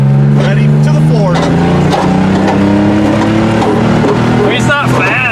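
A 1990 Pontiac 6000 with factory all-wheel drive is floored from a standstill, its engine droning loud and rising steadily close by while people talk over it, with tires scrabbling on the pavement.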